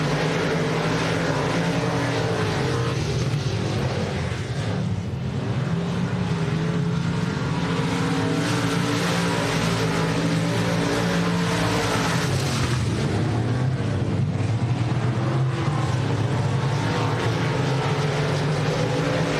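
Race cars roaring down the front straightaway at Texana Raceway Park during a heat race, a dense, continuous engine drone that stays loud and steady throughout with no voices.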